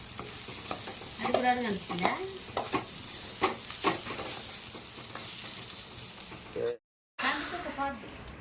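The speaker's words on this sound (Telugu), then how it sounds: "సో పులిహారం కలుపుతుంది అనమాట" Pulihora tamarind rice is stirred and mixed in a pan, with repeated scraping and sizzling strokes at close range, a brief dropout near the end, and people talking intermittently over it.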